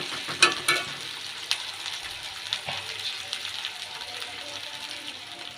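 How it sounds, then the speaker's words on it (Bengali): Onion, chili, garlic and dried red chili frying in a pan, with a steady close sizzle, clinks of a utensil stirring against the metal early on, and quieter crackling afterward. "পেঁয়াজ, মরিচ এবং রসুন আর শুকনো লঙ্কা এটা ভালো করে ভেজে নিব"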